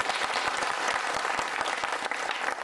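An audience at a Guinean gathering applauds strongly to welcome an honoured woman guest, with steady, sustained clapping from many hands that stays loud and even throughout, with no speech over it.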